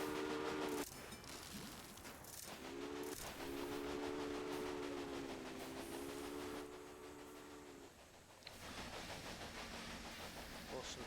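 Train running in the video game Railway Empire, a rolling rumble with a tonal whistle-like drone that rises and holds, moderately faint, with a voice talking over it.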